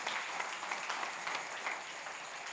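Faint, steady applause from a church congregation during a Spanish-language Sunday service, soft and continuous.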